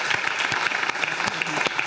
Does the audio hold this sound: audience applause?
yes